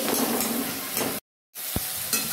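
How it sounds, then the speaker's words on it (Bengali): Tomato, onion and garlic sizzle in a pan while being stirred with a spatula, a loud steady frying hiss broken by a brief cut to silence, then the sizzle resumes. "টমেটো, পেঁয়াজ, রসুন এগুলো সমস্তটাই ভাজা হয়ে গেছে।"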